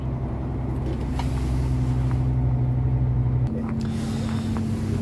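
A 34-ton commercial truck heading downhill on Town Hill on the N3 in KwaZulu-Natal, heard as a steady low engine drone with road rumble that shifts pitch partway through, recorded from inside the cab.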